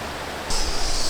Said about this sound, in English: So we made it to the Trevi Fountain.